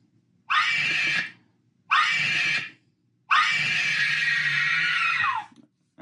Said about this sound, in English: So you heard one of the built-in sounds there already, which is that sort of shrieking scream.